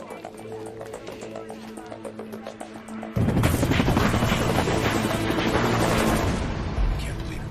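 A helicopter's rotor thumps in a rhythmic chop that suddenly swells into a loud, close roar of engine and blade wash, sustained and noisy.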